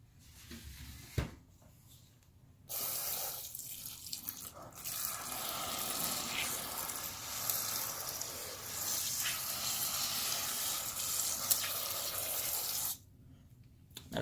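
Water runs into a bug culture container, a steady hissing pour lasting about ten seconds, preceded by clicks and a cupboard-like knock and ending abruptly.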